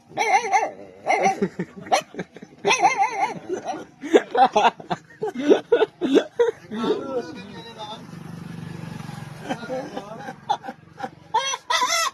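A voice imitates a puppy with a rapid string of high, yappy barks and yelps, close up, followed by a quieter stretch and a few more yaps.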